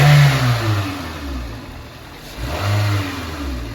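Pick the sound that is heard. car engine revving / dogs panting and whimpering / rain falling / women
car engine revving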